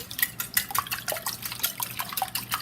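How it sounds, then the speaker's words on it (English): Eggs being whisked in a bowl while mixing a keto loaf bread batter, a rapid run of light clicking, tapping strokes close by, with no talking. "I'm giving the eggs a good whisk."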